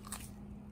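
A dog bites into a thick slice of cucumber, one quick close crisp crunch followed by faint chewing, with no talking.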